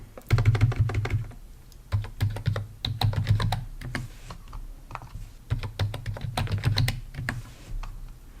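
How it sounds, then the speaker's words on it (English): Someone types a password on a computer keyboard in steady bursts of close, clattering keystrokes with brief pauses between runs. No one speaks. "So let's go ahead and put in a strong password here."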